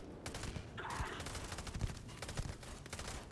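R0 18 Raptor weapon in Starfield firing in short bursts, repeated sharp cracks in quick groups over a busy, noisy game background, moderately faint.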